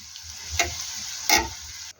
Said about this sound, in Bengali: তো শাকের জন্য পেঁয়াজ, রসুন, কাঁচামরিচ ভাইজা নিলাম